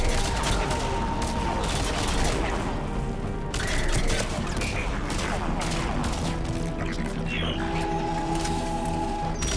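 A sustained barrage of gunfire from Mass Effect 3 pours into a Reaper harvester, loud and dense, mixed with crashing impacts and game effects and continuing without pause.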